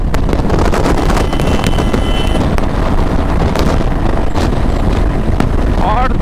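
A 2021 Royal Enfield Classic 350 motorcycle running at full throttle near top speed, with a loud, steady wind roar buffeting the microphone over the engine drone throughout.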